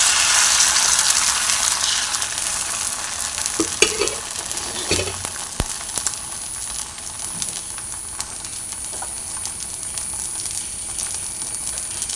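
Fenugreek dosa batter sizzling on a hot pan, a constant bright hiss with occasional scraping and clinks of a utensil, close and steady.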